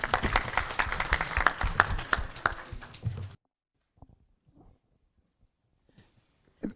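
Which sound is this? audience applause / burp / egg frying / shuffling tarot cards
audience applause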